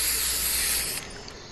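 A steady spray hiss in a video game, loud and continuous for about a second before cutting off abruptly, with a quieter hiss lingering afterward.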